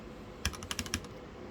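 Typing on a mechanical keyboard fitted with Carbon Retro DSA-profile keycaps over lubed and filmed yellow switches: a short burst of about half a dozen crisp, close keystrokes in quick, uneven succession.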